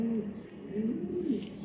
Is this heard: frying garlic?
no